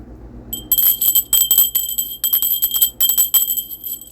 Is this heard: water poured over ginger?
no